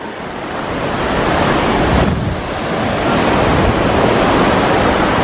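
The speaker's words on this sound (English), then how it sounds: "It's very windy today." Strong, steady wind roars across the microphone over a continuous wash of breaking surf on a long, wide beach in Hua Hin, Thailand, loud and close with no voices.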